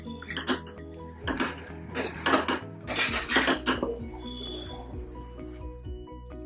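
A spoon scrapes and clanks against a pan while stirring grated sweet potato with crushed peanuts over medium heat, giving irregular metallic scraping bursts close up before the sound settles into a quieter sizzle.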